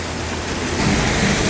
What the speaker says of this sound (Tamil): இப்போ பார்த்தீங்கன்னா கடும் மழையாக இருக்குது